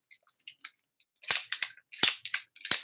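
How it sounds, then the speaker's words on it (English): Ratcheting PVC pipe cutter used for cutting tree rope, giving a few faint clicks and then a series of loud, sharp ratchet snaps in quick bursts, close up with no talking. "This is the type that you cut PVC pipe with, but it's got that ratchet."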